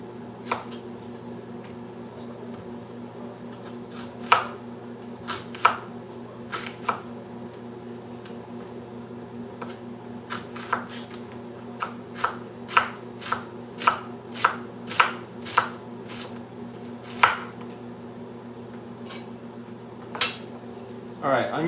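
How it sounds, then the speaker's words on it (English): A knife chopping onions on a cutting board in a home kitchen, irregular sharp taps scattered over a steady low hum, fairly quiet and close, with no talk over them. "Alright, onions are all cut."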